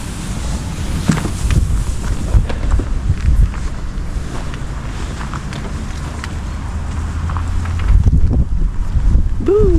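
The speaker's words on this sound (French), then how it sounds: "il y a du vent" Steady wind roars and buffets the microphone at a campervan park in an old campsite, with low rumbling gusts and some muffled movement underneath.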